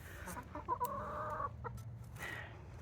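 Backyard chickens clucking close by, a run of short clucks followed by a longer drawn-out cluck, then a few more quieter calls over a faint background.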